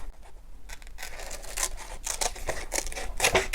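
Scissors cut through a paper pattern for an oversized tailored jacket, producing repeated crisp snips and rustling paper up close, with no talking.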